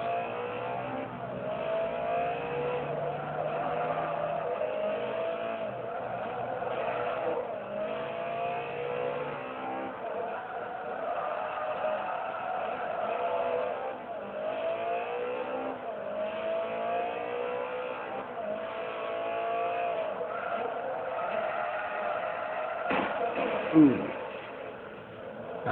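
Car engine revving steadily with swelling throttle during drifting in the racing game Forza 3, a continuous mid-pitched engine drone wavering through gear and speed changes, with a sharp brief knock near the end.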